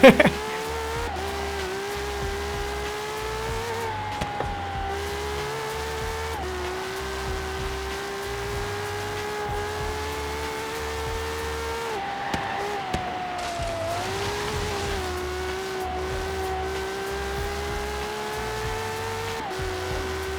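A LaFerrari hypercar races in Forza Horizon, its engine droning steadily with pitch shifts through gear changes, pulsing low rumble beneath and brief skid or impact noises along the way.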